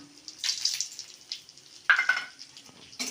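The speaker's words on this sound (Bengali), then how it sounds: "নারকেলটা একটু ভাজা করব সামান্য" Grated coconut frying in oil, sizzling in short bursts as it is stirred in a pan, with brief crackling flare-ups and quiet gaps between.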